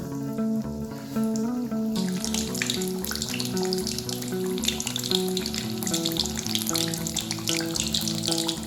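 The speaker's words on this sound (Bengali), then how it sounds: "এবার এটাকে তেলের মধ্যে দিয়ে দিলাম।" A bhetki fish fillet drops into hot oil on a low-to-medium flame and sets off a sudden rush of loud, crackling sizzle that keeps bubbling close by.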